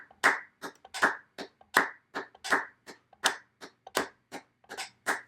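Hands clap a steady run of eighth notes in a music lesson, crisp and close, about two to three claps per second with a few slightly off-beat hits, and no voice.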